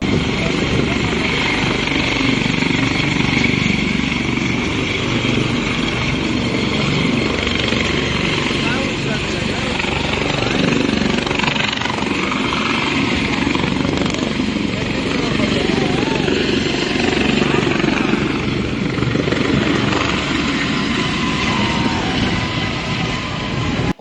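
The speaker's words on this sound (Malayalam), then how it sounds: "ഹെലികോപ്റ്ററിന് എന്തോ ഒരു സാങ്കേതിക പ്രശ്നമുള്ളതായിട്ടുള്ള ഒരു വലിയ സംഭവമാണ് ആ വീഡിയോയിൽ കാണാൻ വേണ്ടി സാധിക്കും" A helicopter with a technical fault loses balance and tilts to one side, its loud, steady engine and rotor roar filling the whole stretch with voices mixed in.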